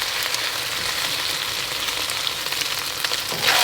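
Fresh garlic browning in a pan gives a steady, close, dense sizzle and crackle that holds even throughout, with a slight swell near the end and no voices.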